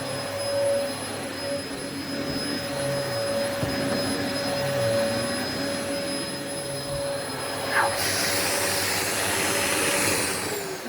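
A Dyson Absolute vacuum cleaner runs on carpet with a loud, continuous motor whine and roar, a steady high tone shifting slightly as it is pushed along.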